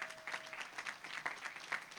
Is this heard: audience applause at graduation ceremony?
yes